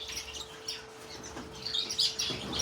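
Pet Bourke's parakeets chirp and tweet in soft, scattered bursts nearby, with faint wing flutters and a steady low hum in the room.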